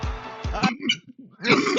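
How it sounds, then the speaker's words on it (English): A man coughs several times in quick succession after a hard laugh, with throaty bursts and a rough clearing of the throat up close. "I laugh too hard at things and I cough"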